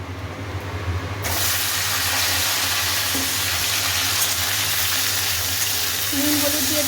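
Fennel seeds and dried red chillies sizzle in hot oil on a home kitchen stove, a loud steady broadband frying hiss that kicks in after a quieter first second and holds evenly throughout.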